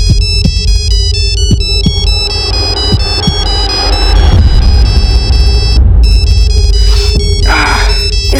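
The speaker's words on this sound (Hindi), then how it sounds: "ये सुबह सुबह किसका फोन है?" A telephone rings repeatedly with a bright electronic ringtone, loud and close, over a low throbbing background rumble.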